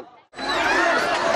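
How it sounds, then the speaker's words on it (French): A large crowd at a charity food kitchen cries and shouts together, a dense wall of overlapping voices that surges in suddenly after a brief quiet moment and stays loud and close. "Une foule nombreuse en pleurs et en cris"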